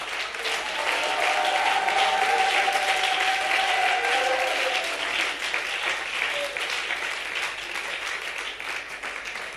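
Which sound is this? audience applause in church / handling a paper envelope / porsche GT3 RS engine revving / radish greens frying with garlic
audience applause in church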